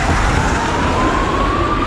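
Ambulance siren wailing on a city street in Bucharest, a rising tone heard at moderate distance behind steady traffic and wind noise.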